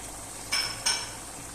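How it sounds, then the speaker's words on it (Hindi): A metal utensil clinks twice against a pan while salt and whole spices such as bay leaf, cardamom and cinnamon are stirred into chicken keema, two short scrapes over a faint low sizzle. "उसके बाद नमक और अच्छे से मिक्स कर लेंगे।"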